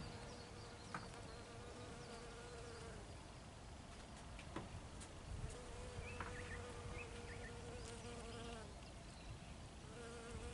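Bees buzz steadily while pollinating flowers in a vegetable garden, a continuous close insect drone with small swells in loudness and no talking.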